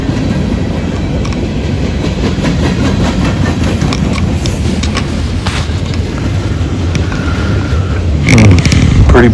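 A loaded CSX freight train rolls past close by with a loud, continuous rumble and rhythmic wheel clatter. The noise swells sharply near the end.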